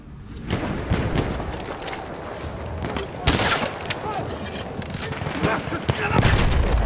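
Battlefield 1 gunfire in the Argonne Forest, a chaotic fusillade of rifle and machine-gun shots with louder bursts near the start, the middle and the end, over continuous battle noise.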